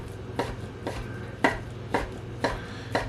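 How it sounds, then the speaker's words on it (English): A knife dices raw beef strips for tartare on a cutting board, striking in a steady rhythm of about seven crisp chops, close and fairly quiet. "Now I'm going to start dicing it up."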